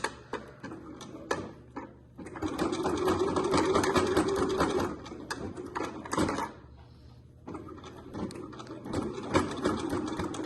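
A sewing machine stitches waterproof twill fabric for a scissor holder, running in loud bursts of rapid mechanical whirring with short pauses between runs, close up and without talk.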